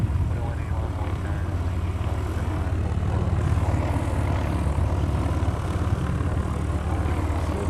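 Heavy airliner engine roar at Honolulu airport, a loud, steady, broadband rumble with strong low-end that holds throughout, with faint voices underneath.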